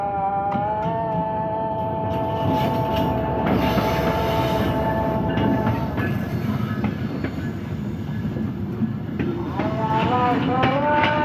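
The Drutojan Express from Chilahati to Dhaka rolls past, loud and close, with a continuous rumble of wheels on rails, metallic squeals and tonal ringing rising and fading, and steady clatter throughout.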